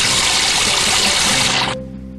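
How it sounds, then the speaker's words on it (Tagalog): A water faucet running in a Tagalog-dubbed Doraemon cartoon episode, a loud, steady close-up rush of flowing water that cuts off abruptly near the end, leaving only a faint low hum. "Tumutulo na gripo ngayon."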